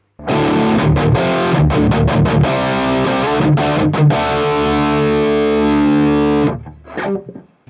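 Gritty, distorted electric guitar through a Sunless Effects Dark Ages distortion pedal used as a preamp, playing a run of quick chopped chords, then a long ringing chord that fades out, loud and up close.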